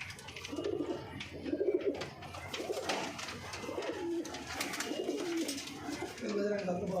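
Small-bodied pigeons with pale yellow eyes coo in repeated low, throaty phrases close by, steady throughout, with some other bird chatter in the background.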